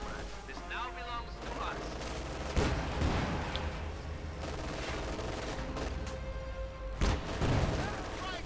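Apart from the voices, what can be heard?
gunfire and artillery in video game Company of Heroes 2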